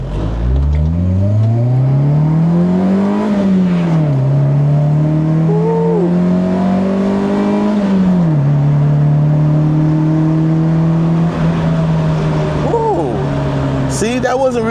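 A bone-stock 1990s Honda engine pulling up through the gears toward 70 mph, a loud rising drone that climbs, drops at each shift and climbs again, heard from inside the car, with a voice talking briefly over it.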